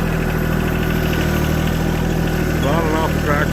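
A tractor engine idles steadily on a ranch, a constant low rumble with a faint warble near the end, close and continuous, with no speech.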